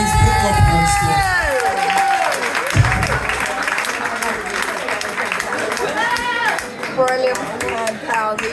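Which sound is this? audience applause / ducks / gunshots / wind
audience applause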